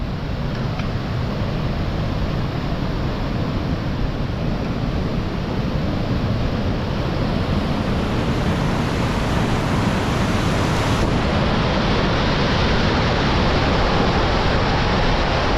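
A powerful waterfall roars loud and unbroken close by, a dense, steady rush of falling water with no let-up.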